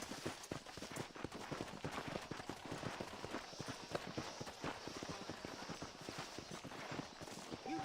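A horse's hooves clip-clop in steady, quick rhythm across a Red Dead Redemption game scene, an even, moderately close patter that continues throughout without speech.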